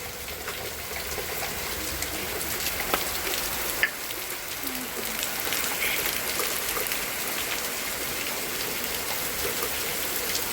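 Steady rain falls outdoors, a dense, even hiss of drops with a few louder nearby patters, no voices.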